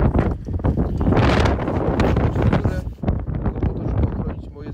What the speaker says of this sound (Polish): wieje niesamowicie, 9 stopni, ale wiatr robi swoje